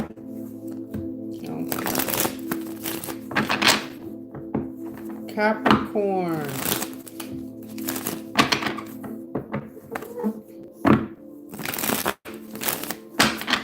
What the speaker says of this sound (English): Did I shuffle these? Let me shuffle again.